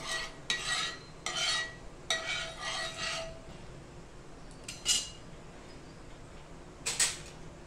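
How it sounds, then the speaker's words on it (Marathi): A spatula scrapes and spreads oil across a hot iron griddle, giving a few short, close scraping strokes in a quick cluster followed by two more isolated scrapes over a quiet background. "हे तेल आपण असं पूर्णपणे हे पसरून घ्यायचंय तव्याला."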